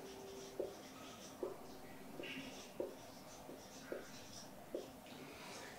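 Chalk or pen writing down values during a lecture, a series of faint, regularly spaced taps and short scratchy strokes in a quiet room.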